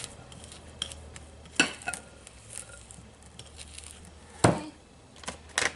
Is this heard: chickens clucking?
no